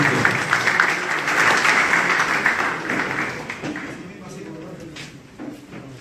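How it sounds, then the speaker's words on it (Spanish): Sustained applause from an audience welcoming a speaker, loud and dense at first, then gradually thinning out as the clapping dies down. "fuertes aplausos para él"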